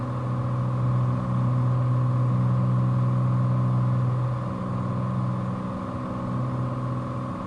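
A Cessna 182T piston engine drones steadily at cruise power in Flight Simulator 2020, a constant loud hum with strong low tones and no breaks, heard alone with no talking.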